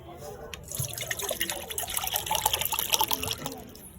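Water poured into a kitchen vessel while rinsing onions with lemon, uneven trickling and splashing with faint drips, heard under someone talking close by.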